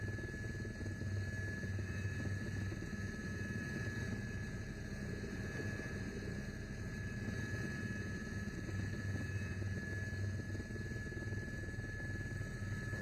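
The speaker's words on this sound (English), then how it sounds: "Delightful shot from the helicopter." Helicopter filming a cross-country ski classics race in Switzerland, heard as a steady, even rotor and engine drone that stays constant throughout with no speech.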